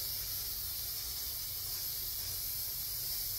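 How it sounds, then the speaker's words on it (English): Aerosol can spraying glaze varnish over a mixed-media canvas, a steady continuous hiss held close and fairly loud for the whole stretch with no pauses. "when I get done with that layer of spraying, you want to hold the can upside down like this"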